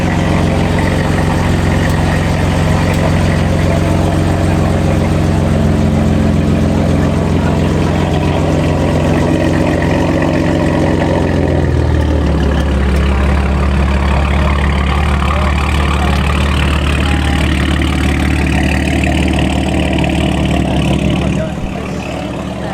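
A loud, rumbling sports car engine at a car meet runs steadily throughout, its deep exhaust tone shifting lower and heavier partway through as the exhaust valves open, with no pause until the very end.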